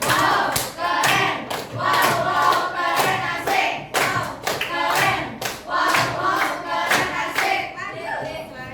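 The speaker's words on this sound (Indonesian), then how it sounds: "tepuk keren dulu dong buat kelompok 2" A classroom of students doing a patterned rhythmic clap for a presenting group, sharp sets of claps and thumps repeating in a cheer-like beat for several seconds, fairly close and busy.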